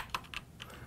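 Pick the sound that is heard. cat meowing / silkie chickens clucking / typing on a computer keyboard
typing on a computer keyboard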